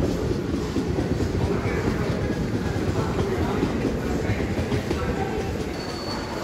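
Kondaveedu Express on the Yeshwanthpur to Machilipatnam run, heard from inside at full speed, a dense continuous rumble and wheel roar with steady rattling and no break.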